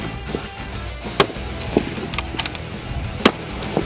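A new Caracal rifle fires outdoors, giving a few sharp, spaced reports at a distance, with one stronger crack early and another late over a low steady background.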